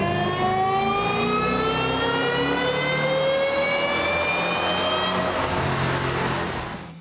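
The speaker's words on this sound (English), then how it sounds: "We then re-ran the car using the 93 octane race tune" A manual 2008 Shelby GT500 running a 93 octane race tune pulls hard on a dyno, its engine revving in one long, loud, rising sweep before easing off at the end.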